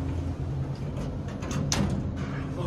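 Original Schindler Haughton traction parking elevator doors sliding, a steady mechanical rumble and hum with a brief brighter swish partway through, close and continuous.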